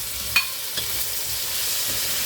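Tomatoes drop into a pan of bitter gourd (ampalaya) frying until lightly browned, giving a faint steady sizzle with a couple of soft stirring knocks.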